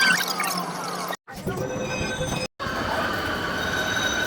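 A metro train rumbles and squeals through Lal Qila metro station in Delhi, loud and close, with two brief cuts of silence and high-pitched wheel screech.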